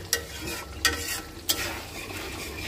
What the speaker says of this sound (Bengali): মুরগির মাংসের জন্য মশলা কষানো হয়ে যেতেছে।